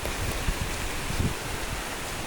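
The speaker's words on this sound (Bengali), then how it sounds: "বৃষ্টি পড়তেছে আপনারা মনে হয় শব্দ শুনতে পাচ্ছেন" Steady, dense hiss of rain falling in a Bangladeshi village after dark, with soft patter and rustle throughout and no voices.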